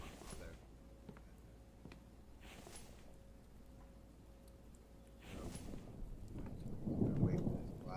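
A thunderstorm rumbles in the survival game The Infected, with soft rain hiss and a swelling low roll of thunder that grows louder toward the end, heard fairly faintly.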